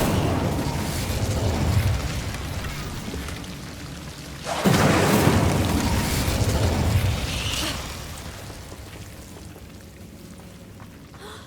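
The Incendio fire spell is cast in the Hogwarts Legacy video game, producing a sudden loud whooshing burst of flame that rises out of steady ambient noise and then fades slowly.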